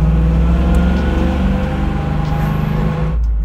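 A restored 1970 Chevy Camaro V8 holds a steady, loud, deep engine rumble at idle-to-mid revs for about three seconds, then cuts off sharply near the end, with no voices over it.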